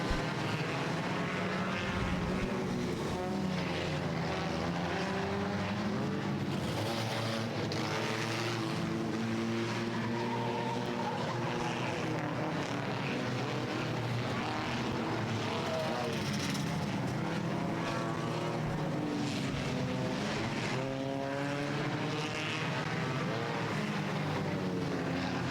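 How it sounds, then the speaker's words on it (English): Race cars at Star Speedway roar down the front straightaway out of turn four in a dense, continuous wash of engine noise that swells and shifts as they pass, with a voice talking underneath. "coming out of turn number 4 and coming to you race fans on the front straightaway, the green 55 of Gage Osborne"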